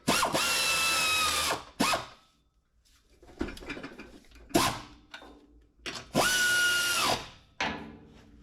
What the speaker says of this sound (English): My noisy snap-on air ratchet, but boy, that's the best air ratchets out there.